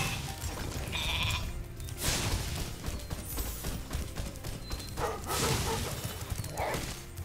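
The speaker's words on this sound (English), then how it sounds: "The goat." Goat bleating in the video game Spyro the Dragon, heard amid busy game music and effects, with a couple of bleat-like calls over a continuous loud backdrop.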